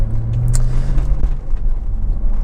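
A 2007 BMW Z4 3.0 si Sport Roadster two-door idles steadily, giving a loud, close, low engine rumble with a constant hum, heard alone without talk.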